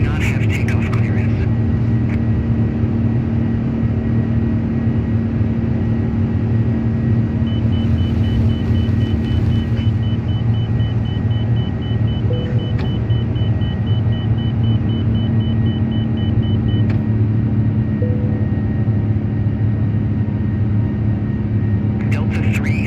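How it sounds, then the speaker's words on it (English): Airbus A350 in Delta Airlines livery rolling down the runway at Atlanta for takeoff in Microsoft Flight Simulator, a steady loud engine roar and rumble sustained throughout, with occasional faint tones over it. "What a windy takeoff."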